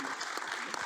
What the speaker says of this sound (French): Katia, on peut encore l'applaudir.